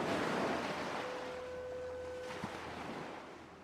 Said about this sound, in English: he watches the crashing waves